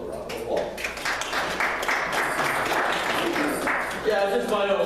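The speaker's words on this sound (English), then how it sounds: "Give yourselves a round of applause." A small training group gives a modest round of clapping, with scattered hand claps running steadily for a few seconds under and between voices in the room.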